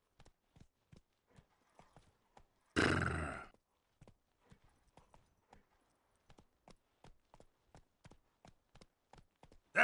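Roach the horse in a video game gallops with steady, evenly spaced hoofbeats that are quiet and close, broken once early by a loud, breathy neigh.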